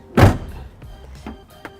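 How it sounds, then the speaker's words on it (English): The trunk of a 2003 Pontiac Aztek shuts with a single loud, close thunk, followed by faint latch clicks and small rattles as it settles. "close the trunk of the vehicle"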